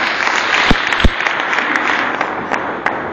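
A crowd applauding at a gathering, steady full clapping from many hands filling the room, with a couple of louder close claps standing out.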